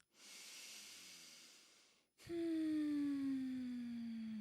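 A single slow, breathy inhale is followed by a pause and then a long hissing exhale, close and soft, as a sustained musical tone rises underneath.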